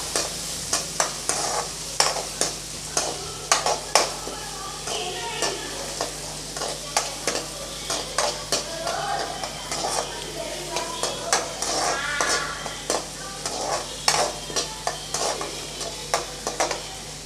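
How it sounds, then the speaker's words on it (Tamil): Onions and shallots sautéing in a pan for a banana flower and drumstick leaf stir-fry, with a steady sizzle and repeated scraping, clattering stirring strokes close by, no talk. "கொஞ்சம் நல்லா வதக்கி விட்டுறலாம்"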